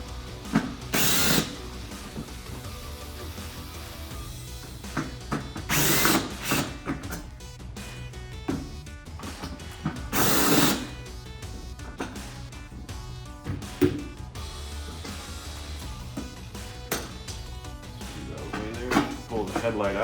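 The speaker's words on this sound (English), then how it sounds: "Now we're going to remove the 4 T25 Torx on either side here" A power driver backs out T25 Torx screws on a motorcycle LED headlight, giving several short loud whirring bursts separated by pauses, with a voice talking between them.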